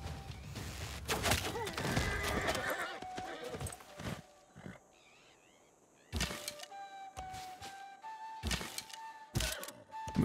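A knight's horse in Civilization 6 neighs and whinnies with clip-clopping hooves and thuds, several loud bursts separated by a quieter stretch, alongside game interface tones.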